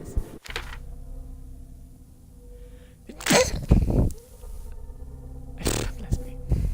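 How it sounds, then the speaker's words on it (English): A character in the Call of Cthulhu video game gives a loud, close sneeze over a low, humming ambient background. A second sharp burst follows a couple of seconds later. "Somebody sneeze."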